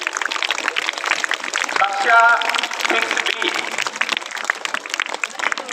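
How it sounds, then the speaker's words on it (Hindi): A school audience claps for students being honoured for top test results, steady dense applause running throughout under someone speaking over a loudspeaker. "कम से कम तालियां तो बजाइए भी।"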